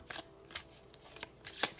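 Several quick, crisp bursts of cards being shuffled, close and fairly quiet, arriving in an irregular rhythm with short pauses between.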